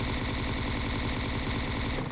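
Rapid, dense gunfire from a Kar98 rifle in PUBG Mobile, a continuous loud barrage of shots without a break and no talking.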